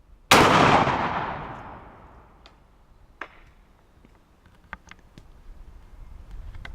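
A single loud rifle shot from a gun steadied on a Caldwell Handy Rest NXT, fired at a small target, booms sharply and rings out in a long decaying echo, followed by faint scattered clicks and ticks.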